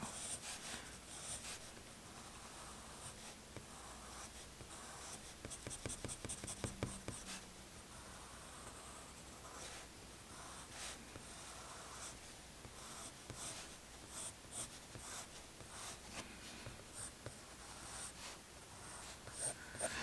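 Pencil sketching a Mickey Mouse drawing on paper, a steady close scratching of graphite strokes that runs continuously with brief pauses and bursts of quicker strokes.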